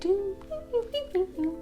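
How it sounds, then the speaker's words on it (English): A washing machine's short electronic end-of-cycle melody of several stepped, bright tones. "this little song, I don't know if you can hear it, that's our washer going off"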